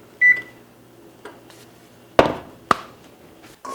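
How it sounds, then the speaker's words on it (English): A home oven's electronic controls give a short, bright beep, followed by a few sharp clicks and taps of buttons and knocks nearby, with quiet gaps between and no speech. "Helps if I turn on the oven."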